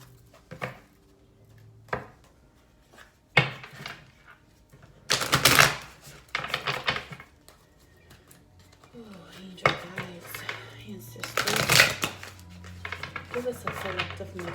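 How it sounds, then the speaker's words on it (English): A tarot deck, the Herb Crafter's deck, being shuffled by hand, giving bursts of riffling and slapping card sounds with pauses between them, fairly close, and no talking over it. "So I'm going to shuffle the cards with you guys today."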